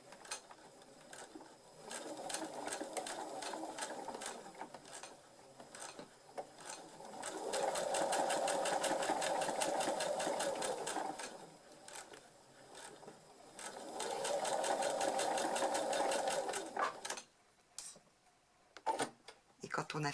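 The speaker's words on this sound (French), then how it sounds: "On commence toujours à piquer ses pinces de l'extérieur vers l'intérieur." A sewing machine stitches darts in viscose fabric for a summer dress in two long, steady runs of rapid, even needle chatter. The runs are separated by pauses, and a person talks quietly in places.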